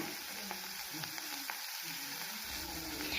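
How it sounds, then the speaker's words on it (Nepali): Sliced onions fry gently in oil with fenugreek seeds, a soft, continuous low sizzle with faint scattered crackles and a light stir, fairly quiet and without speech. "र हामीले यो प्याजलाई त्यतिखेरसम्म फ्राई गर्नेछु जबसम्म यसको मिठो गोल्डन कलर चाहिँ आउँदैन"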